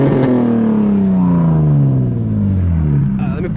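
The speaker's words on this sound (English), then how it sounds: "I'm gonna give you guys some revs" A Nissan 350Z engine revs hard up close, its loud droning tone rising and falling through a rev sweep, sustained without pause.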